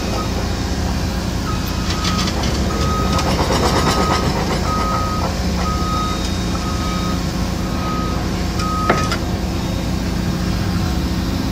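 Warning alarm on a Caterpillar or Volvo excavator sounding for hydraulic oil despite a normal sight glass, likely a bad sensor: a steady train of evenly spaced electronic beeps over loud, constant engine rumble.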